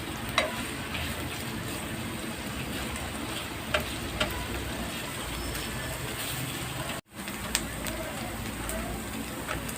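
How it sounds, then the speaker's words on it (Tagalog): Chicken pieces frying in oil in a pan, a steady dense crackling sizzle holding throughout at an even moderate level with a few louder pops. "iprito lang natin siya hanggang mag-golden brown"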